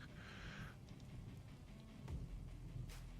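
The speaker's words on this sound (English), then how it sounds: "It started raining." Rain begins falling over a swamp in the colony game Dwarf Fortress, a soft, faint hiss and patter with low rumbling, a brief chirpy tone at the start.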